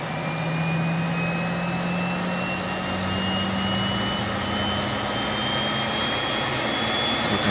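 Phenom 100 jet engine starting up, a loud, close, continuous roar with a rising turbine whine that climbs steadily in pitch as the engine spools up, heard alone without voices.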